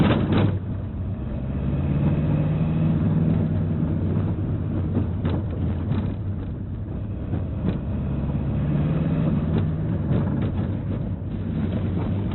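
Continuous low rumble of a Ford Tourneo Connect engine driving in third gear, with road noise and occasional bumps and rattles from a rough road, steady throughout with no talking.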